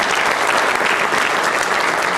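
Dense, steady applause from a forum audience fills the whole stretch, loud and close, with no voices standing out above the clapping.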